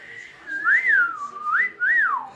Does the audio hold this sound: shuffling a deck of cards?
no